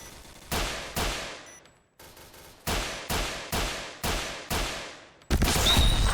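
Gunfire in a first-person shooter map as police are shot at: seven sharp, loud single shots in a steady rhythm with brief gaps, ending in a dense, sustained burst of fire.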